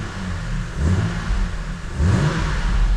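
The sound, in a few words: BMW N52 six-cylinder engine starting and revving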